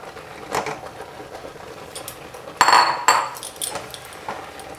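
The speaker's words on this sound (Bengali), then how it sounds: "আর এটাকে নাড়াচাড়া করব।" A spoon clinks and scrapes in a pan as a rice flour and maida mixture is stirred over the flame, with brief metallic taps and a louder burst of scraping near the middle.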